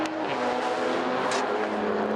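Race car sliding under heavy power on a circuit track, the engine droning loud and steady with a bright tire squeal rising briefly partway through, no voices over it.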